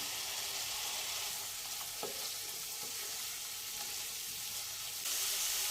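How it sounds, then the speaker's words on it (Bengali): Fried potatoes tipped into a pan of spice masala that has been cooking down, setting off a steady loud sizzle with stirring scrapes, close and continuous with no talking. "এবার আমি আলুগুলো, ভেজে রাখা আলুগুলো দিয়ে দিলাম।"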